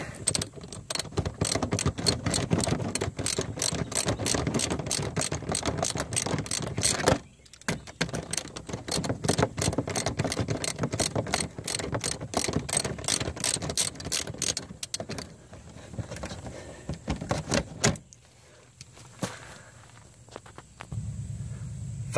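A ratchet clicks rapidly and rhythmically while backing bolts out of the clutch delay valve on a Dodge Dart, with long bursts of close ratcheting, a brief pause, then slower clicks and handling noise.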